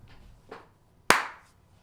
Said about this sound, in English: Hold on, clap.